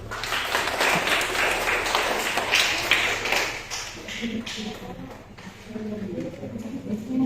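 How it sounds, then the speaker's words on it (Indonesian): Children clap their hands together in a classroom, a brisk burst of many small hands that thins and softens after a few seconds, with a little faint chatter behind. "tepuk tangan dulu"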